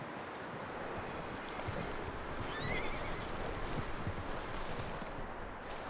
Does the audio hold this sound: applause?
no